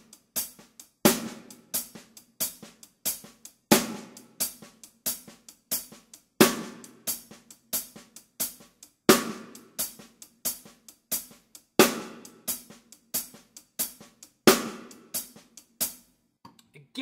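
Drum kit playing a shuffle groove at a slow tempo, steady hi-hat and snare strokes with loud backbeats and very soft ghost notes between them, close and alone without talk.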